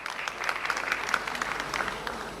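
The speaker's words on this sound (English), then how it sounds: "Give them a round of applause." A crowd applauds steadily at a South African presidential event for the Milestones of Freedom campaign, a dense, continuous clapping close by with no speech over it.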